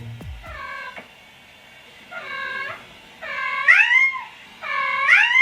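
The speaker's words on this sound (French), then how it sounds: "C'est le son d'un chat" Cat meowing to a TikTok sound: four drawn-out, rising meows, close and growing louder and more insistent, the last ones edging toward a caterwaul.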